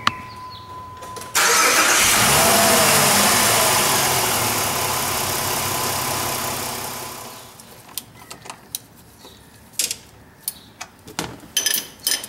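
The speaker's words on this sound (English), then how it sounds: "let the engine idle 10 to 15 minutes to let the flush do its job" A Jeep Liberty engine, dosed with engine flush before an oil change, starts and runs at a fast idle close by, then shuts off, followed by scattered clicks and clanks of work nearby.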